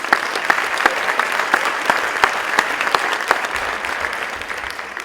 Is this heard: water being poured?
no